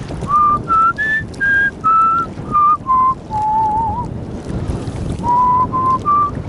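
Wind gusting across a fishing reservoir, a steady roar of rumbling buffeting on the microphone throughout, loud and close, with someone whistling a tune over it in short held notes.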